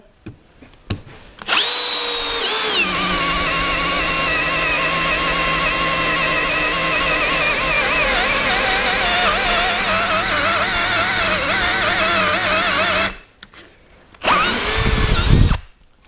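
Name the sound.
cordless drill-driver drilling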